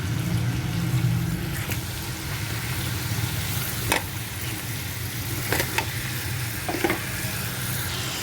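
Chicken frying in hot oil in a pan for white chicken karahi, a steady close sizzle with a few brief clinks of utensils against the pan, no one talking.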